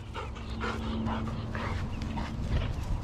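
After a scuffle with chickens, a farm dog whimpers and pants nearby in short, uneven whines and breaths over a steady low background hum, with no clear talking.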